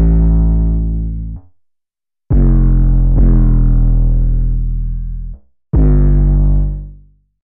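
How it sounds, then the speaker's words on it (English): Gritty, distorted electronic bass notes for a UK drill beat in BandLab, with a rough, buzzy edge from a distortion effect, played loud in three sustained phrases separated by short gaps. "I want the bass to sound dirtier, so in the effects section I add a distortion BL driver"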